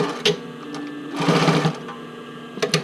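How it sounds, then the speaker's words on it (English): A sewing machine runs a line of stitching across a bra, a steady close mechanical whir with rapid needle clatter, rising to a faster, denser burst midway before settling back, with small clicks at the start and end. "So yeah, I'll stitch it across."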